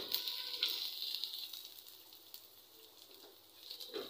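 Three ingredients for aloo tikki with chana dal filling fry in a pan, giving a steady close sizzle with a few soft stirring scrapes, and no talk over it.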